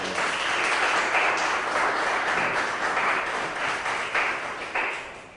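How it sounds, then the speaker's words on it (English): A crowd at a Savannah civic leadership announcement gives a round of applause for a returning basketball player, a dense, steady roar of many hands clapping close by that holds evenly and then thins toward the end. "Let's give him a round of applause."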